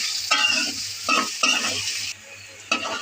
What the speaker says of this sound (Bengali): এখন ভাজবো।